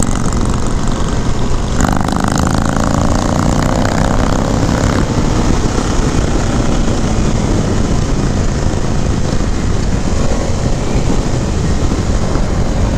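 Indian FTR 1200 S motorcycle, a 2019 model, accelerating under throttle on a ride, its engine roaring steadily and loudly with rushing wind noise throughout.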